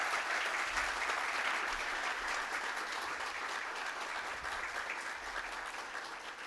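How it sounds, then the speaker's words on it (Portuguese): Sustained applause from an audience at a formal solemn session honouring professor Luiz Torrano, a steady dense clapping that holds at even loudness for several seconds with no talk over it. "Uma salva de palmas, professor Luiz Torrano."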